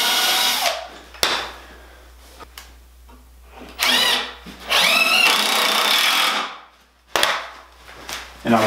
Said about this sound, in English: And then I will drill a pilot hole and screw it in.